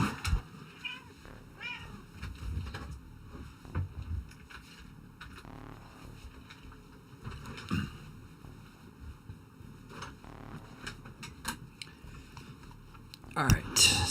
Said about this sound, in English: Give me a second, I gotta let this cat out.